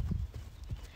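Horse hooves clip-clopping on the ground while the horse is lunged, a few soft, close thuds in quick succession, fairly quiet.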